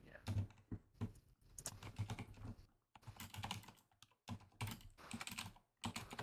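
Typing on a computer keyboard in bursts of rapid clicks with brief pauses, close and fairly quiet, from a person chatting during a stream.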